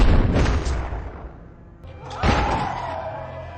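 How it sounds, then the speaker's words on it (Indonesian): Two heavy booming film gunshots, the second sharper and followed by a lingering rumble, loud and close. "Cobb yang mendengar suara tembakan langsung menuju ke sana"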